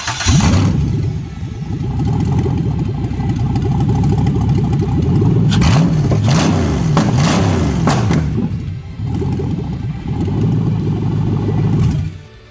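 A GM LS V8 engine cranks, catches and revs repeatedly, the loud rumble surging and dipping through several throttle blips before cutting off near the end.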